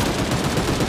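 Shotgun fire in the mobile battle royale Sausage Man, a rapid run of close, loud blasts packed tightly together in under a second.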